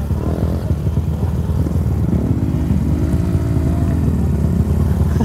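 A motorcycle engine runs loud and close with a steady low rumble, pitch rising and falling slightly as it revs, continuous throughout with no clear talk over it.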